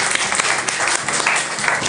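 Audience applause at a cybersecurity inspiration session, a steady wash of many hands clapping, dense and continuous for the full two seconds with no pauses.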